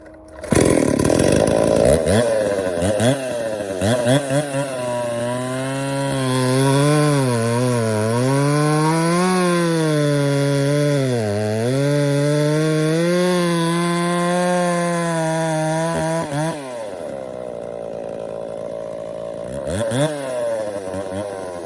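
Stihl 038/046 hybrid chainsaw cutting wood, a loud close two-stroke whine that rises and bogs as it works through the cut, then drops back to a lighter rev near the end.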